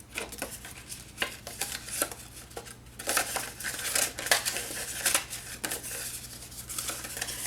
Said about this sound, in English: now let's go ahead and fold on all those creases